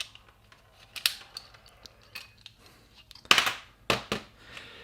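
Metallic clicks and scrapes from a Walther P22 pistol being disassembled, with its lever pulled down and slide drawn back. Scattered small clicks build to a few louder sharp snaps and sliding rasps near the end, up close.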